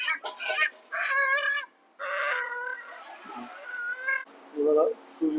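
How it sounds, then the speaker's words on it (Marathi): A village rooster at an old roadside dhaba clucks in several short, close bursts, with a person talking nearby. "गावठी कोंबडा काढतोय आपण."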